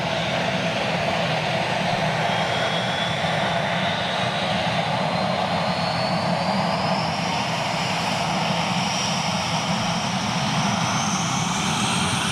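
An aircraft at full takeoff power roars in a steady, loud, continuous engine noise that holds without pause.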